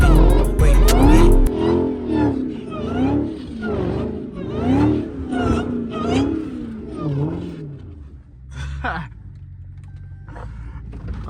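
A Dodge Hellcat revs hard while drifting through a snowy blizzard, the engine rising and falling in repeated loud surges before settling to a lower rumble, with voices over it.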